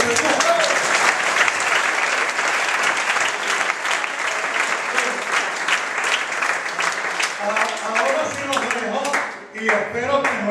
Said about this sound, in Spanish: Le damos otro aplauso al Señor.